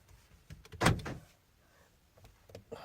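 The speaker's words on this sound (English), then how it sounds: "I just locked the doors." Car doors lock with a brief mechanical clunk and rattle, a loud central thump followed by a few softer clicks, close by in a quiet car at night with no talking.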